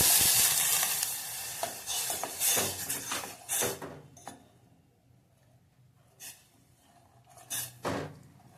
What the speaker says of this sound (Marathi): आता तुपात चांगलं शाबू भाजून झाले, आता आपण दूध घालणार